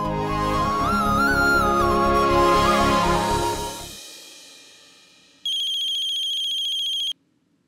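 A phone rings with a melodic ringtone tune that fades out, then a short, bright electronic beep tone sounds alone.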